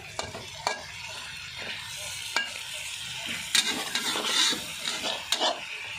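Adobo chicken with okra is stirred in a sizzling pan, with a utensil scraping and clinking against the metal in irregular bursts over a steady close frying hiss.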